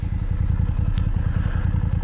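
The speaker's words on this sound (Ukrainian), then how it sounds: "Я тут на мотоциклі запросто проїду." A motorcycle engine thrums close by in a rapid, steady low pulse while riding along winding mountain serpentine roads, with faint clattering over the engine.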